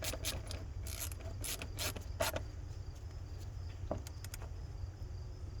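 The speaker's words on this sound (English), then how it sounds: "snug up your hose clamp." A hose clamp being tightened on a 1998 K1500 5.7 L truck intake, faint clicky ratcheting bursts in quick clusters at close range against a low background hum, with no voices.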